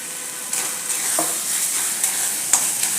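Tomato bhaji with a little sugar being stirred in a pan, a spoon scraping and tapping the metal with occasional clinks over a soft continuous sizzle, close and alone.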